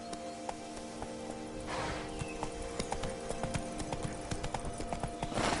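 The horse Roach in The Witcher 3 video game, steady rhythmic hoofbeats clip-clopping close by at a gallop, with rustling movement and a brief breathy snort or whinny.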